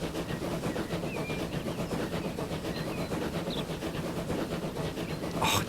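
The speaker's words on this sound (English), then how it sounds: "don't you just love the sound of trains?" Trains in the video game Transport Fever rumble continuously with a rhythmic clickety-clack along the rails, steady and moderately loud, with a brief brighter hiss at the end.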